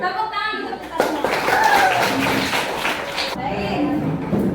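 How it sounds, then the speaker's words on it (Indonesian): A classroom group of pupils claps together during a lesson, a burst of dense clapping starting about a second in and lasting several seconds, with children's and a teacher's voices heard before and after. "Tepuk tangan untuk kita semua."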